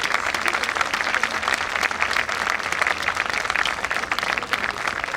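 Dense, even applause from a seated audience following a Bharatanatyam recital, many hands clapping continuously and loudly throughout without pause or speech.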